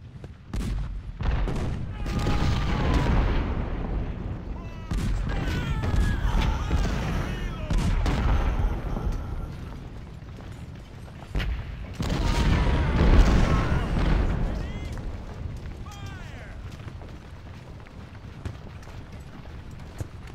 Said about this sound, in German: die schießen auf die eine Kanone